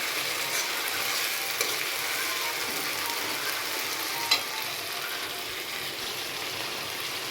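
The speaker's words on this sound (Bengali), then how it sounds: "মশলা ভালোভাবে কষিয়ে নেব" A spice paste for fish curry sautés in oil with a steady, moderately faint sizzle and occasional soft stirring taps, with no voices.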